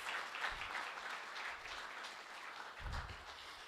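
An audience gives a speaker a round of applause at a World Population Day commemoration event, a steady, fairly faint and distant wash of clapping with a low rumble partway through.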